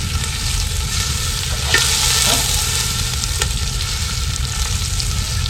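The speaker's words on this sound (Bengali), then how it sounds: "এবার আমরা শুকনো লঙ্কাগুলো দিয়ে দিচ্ছি পেঁয়াজের সঙ্গে, হালকা করে ফ্রাই করে নেব" Dried red chillies fry with onions in hot oil for a village-style duck curry, a steady, dense sizzle with a couple of stirring scrapes partway through.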